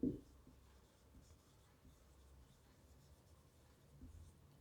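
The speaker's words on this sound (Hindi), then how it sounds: "इसको मैं साफ साफ लिख देता हूं थोड़ा सा।" Chalk or marker writes on a board during a physics lecture, making soft, scratchy strokes that start with a brief louder tap and then stay faint in a quiet room, with no talking.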